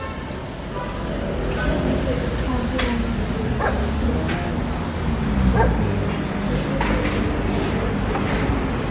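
A dog whimpers and yips in short, plaintive bursts, close by, over a steady background rumble.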